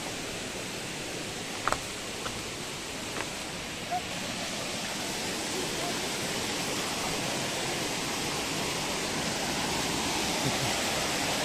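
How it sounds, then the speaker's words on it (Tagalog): Kilangil Falls pours in a steady, dense broadband rush of falling water, constant and fairly close throughout, with a couple of brief faint clicks near the start. "Wow, ganda ng falls."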